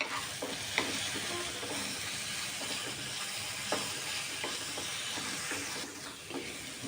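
Finely chopped green chillies fry in a pan with a steady close sizzle and hiss, broken by a few sharp pops and spatters.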